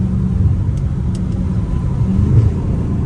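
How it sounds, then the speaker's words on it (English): A catless Hellcat Redeye rumbles from inside the cabin at night, a loud, steady low engine and exhaust drone that swells slightly near the end. "my car is definitely way too loud"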